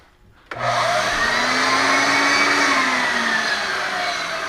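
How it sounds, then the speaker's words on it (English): A garage central vacuum system switches on abruptly and runs steadily as a loud, close, continuous whining roar with a rising motor tone, no talking over it. "a vacuum for the garage."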